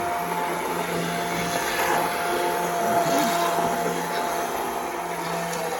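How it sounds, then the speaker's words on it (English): An immersion blender purees tomatoes for a homemade pasta sauce, giving a continuous loud motorized whir with a churning, slightly rising texture that runs without pause for several seconds. "we're going to use what they call an immersion blender"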